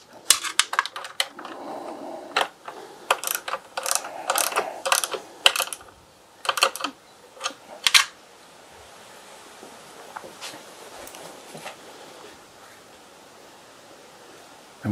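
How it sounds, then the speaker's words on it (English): Nuts and bolts on a tail tidy and lamp bracket of a BSA Goldstar motorcycle tightened by hand, with bursts of close ratchet clicks and metallic clinks, then a quieter stretch of faint rustling. "Tighten these nuts and bolts up when we're happy with the position of the lamps in the centre of the mudguard."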